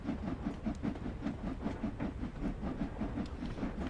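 Steam locomotive with the regulator fully open in Train Sim World 2, a steady rhythmic chuffing beat over a continuous low rumble and hiss, moderately quiet and with no voices.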